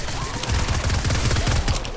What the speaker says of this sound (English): There's so many gunshots.